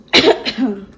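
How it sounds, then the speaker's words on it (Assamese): A single sharp cough in a home kitchen, close and loud, followed by a brief trailing throat sound. "কাহি গৈছে"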